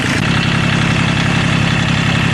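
A Kubota tractor's diesel engine idles steadily up close, a dense, loud, even rumble with a fine rapid pulsing throughout.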